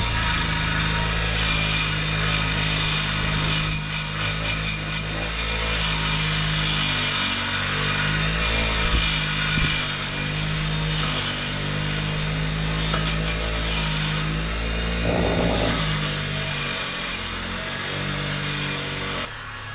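Power tool grinding rust and crust off steel before welding a new shop sign, a loud continuous whirring abrasion lasting the whole stretch with slight shifts in pitch as the tool moves over the metal.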